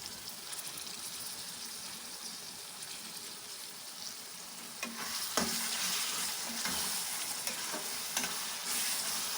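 Small cleaned chicken pieces sizzle in hot oil with Chettinad masala for a chicken gravy, a steady frying hiss that grows a little louder as the mix is stirred, with occasional scraping knocks of a spoon against the pan.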